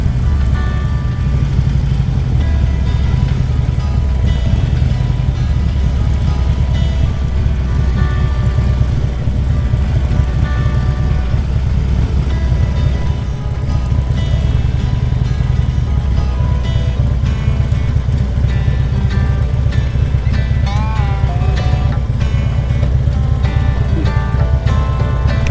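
A motorcycle rides into Toad Rock Campground, a motorcycle-only campground in British Columbia, its engine droning loud and steady with heavy wind rush throughout.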